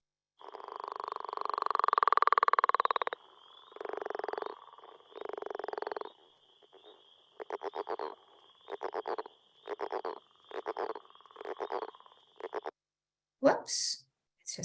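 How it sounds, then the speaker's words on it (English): A leopard frog gives a long rattling snore followed by a rhythmic series of pulsed grunts and croaks, clear and close against a quiet background, with a brief sharp noise at the end. "Here's the leopard frog first with a bunch of snores and grunts."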